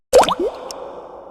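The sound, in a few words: water dripping from a leaking roof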